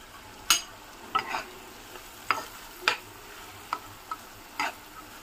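Salt and ginger garlic paste frying in a pan under a low sizzle, punctuated by about eight sharp scraping stirs of a spoon against the metal at irregular intervals, close by.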